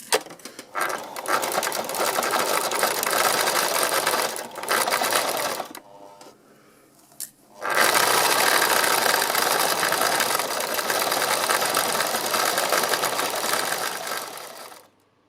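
Sewing machine stitching fabric flowers, running in fast rattling bursts with a short pause in the middle before the steady mechanical whir picks up again and continues close and loud.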